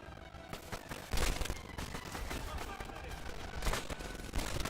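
Rapid gunfire from the World War II shooter game Medal of Honor Airborne rattles in bursts of automatic shots and impacts, moderately faint, with a voice talking over it.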